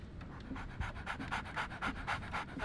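A dog pants quickly and steadily in the video game Sherlock Holmes The Awakened, a close, rhythmic run of breathy huffs with no talking over it.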